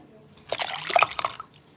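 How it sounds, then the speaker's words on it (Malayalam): Boiling water is poured into homemade chocolate cake batter made with sunflower oil and eggs, giving a brief, moderately loud splashing gush of about a second with no talk. "ഇനി 1 കപ്പ് ബോയിലിംഗ് വാട്ടർ ചേർക്കാം"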